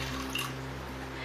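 Water trickles into a bowl of wet ingredients for vegan chocolate cake batter, a brief, soft drip and splash over a steady low hum.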